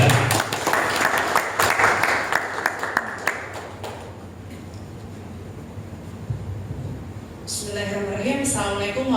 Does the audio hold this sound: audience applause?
yes